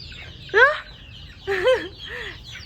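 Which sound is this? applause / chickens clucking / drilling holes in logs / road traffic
chickens clucking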